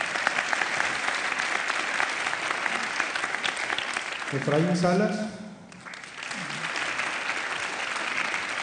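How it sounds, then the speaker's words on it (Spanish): An audience at a Tijuana Innovadora breast cancer conference claps steadily for an introduced speaker, the dense applause briefly overlaid by a voice announcing a name midway before the clapping continues. "Un aplauso para él."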